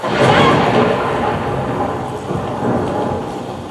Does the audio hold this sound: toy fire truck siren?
no